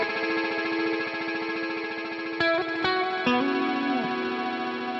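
Electric guitar through a Boss DD-6 digital delay set to 300 ms with feedback raised, sustained distorted chords trailing into repeating echoes, with a few sharp pick attacks near the end.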